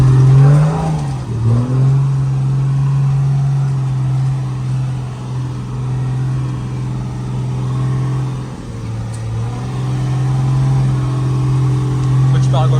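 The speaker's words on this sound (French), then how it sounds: "Franco, vas-y, accélère, ça va pas, ça va pas." Nissan Patrol off-road vehicle engine labouring and revving steadily at close range, a strained mid-pitched drone that dips and recovers, with people shouting over it throughout.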